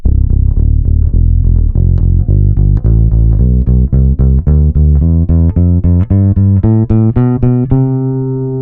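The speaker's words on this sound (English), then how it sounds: "I'm going to put the bass all the way up. So you can hear that it's not a very boomy sound," An Epiphone Thunderbird PRO V electric bass played through its neck pickup with the bass EQ turned fully up, giving a steady string of warm, round, plucked low notes that climb upward, loud and close, with no talk over them.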